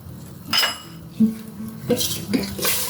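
Spoon stirring urad dal in a metal cooking pot, several sharp clinks and scrapes against the pot sides spaced irregularly, close and clear with no talk.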